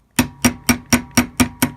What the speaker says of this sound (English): Flip it over and tap it on the other side.